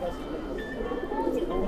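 Red-splashed Madrasi pigeons, a male and female pair, coo softly in a low steady murmur, with someone talking over them throughout.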